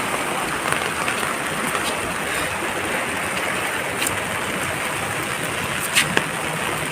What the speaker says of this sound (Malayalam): മഴ ഇങ്ങനെ പെയ്യട്ടാ